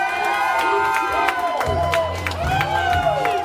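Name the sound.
wrestling crowd cheering after the match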